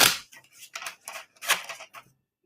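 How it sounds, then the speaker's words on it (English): A deck of tarot cards is shuffled by hand in a run of crisp, snapping riffles and clicks, several quick bursts close by before it falls quiet. "let me shuffle the cards and see where we're at with this."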